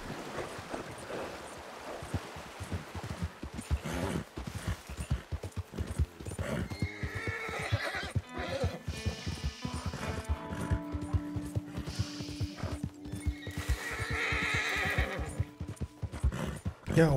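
Rapid hoofbeats of a galloping horse in the video game Red Dead Redemption II Online pound steadily throughout, broken by a couple of loud neighs, with music and ambient sound underneath.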